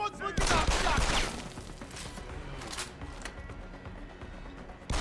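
Shotgun fire in Deus Ex: Human Revolution, with a loud burst of blasts near the start and a dense run of gunfire-like crashes that fades into a softer, busy game mix.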